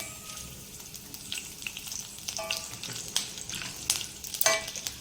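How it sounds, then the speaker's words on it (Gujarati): Mustard seeds spluttering in hot oil with green chillies, a busy crackling sizzle of irregular pops and spits, close and fairly steady, with louder bursts near the end and no talk. "તો અહીંયા આપણી રાઈ તતડી ગઈ છે સરસ"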